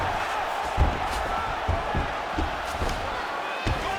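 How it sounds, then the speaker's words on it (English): Arena crowd roaring steadily in a UFC heavyweight fight simulation video game, Jon Jones versus Tom Aspinall, with scattered thumps and slams rising through the continuous broad cheering. "crowd absolutely loving it"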